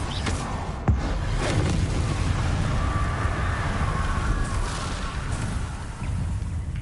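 Incendio fire spell cast in the game Hogwarts Legacy, a steady dense whoosh of roaring flame with a soft thump near the start, loud and continuous throughout with no voices.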